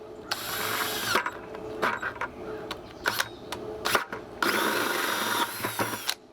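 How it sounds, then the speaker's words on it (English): A power drill bores a hole in plastic, whirring in several bursts, long high-pitched runs broken by short stops and a few clicks, close by with no talking. "drill a hole."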